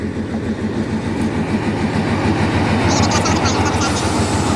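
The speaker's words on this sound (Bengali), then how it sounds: "এই যে ট্রেনটা চলে আসছে, স্লো করে দিয়েছে ট্রেনটা" A train rumbles into a station steadily with rhythmic clacking of wheels on rails, loud and close, slowing as it pulls alongside.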